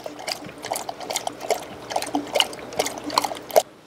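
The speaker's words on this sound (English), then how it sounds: "Now my favorite way, which I use this turkey baster, is to water my plants" Water squirted from a turkey baster onto houseplants beside a nano fish tank, heard as close, uneven trickling and dribbling with small splashes and drips in quick irregular bursts, no talking.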